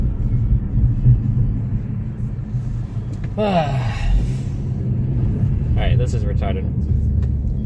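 A car driving in the Destiny video game gives a steady low engine rumble throughout. Someone talks over it, and a couple of short whooshing sweeps pass in the middle.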